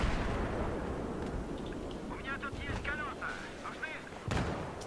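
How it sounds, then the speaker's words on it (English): Sniper gunfire in a shooter video game: several sharp distant shots crack over a rumbling game soundscape, with one louder shot near the end. "all I heard was about 3-4 snipers just shooting at me"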